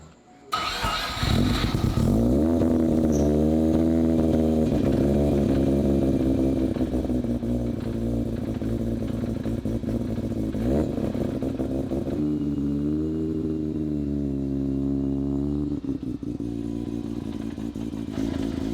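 A rotary-engine car fitted with Chevy exhaust tips cranks and fires up, then settles into a loud, lumpy, buzzing idle with a brief rev partway through, close to the microphone and with no talking.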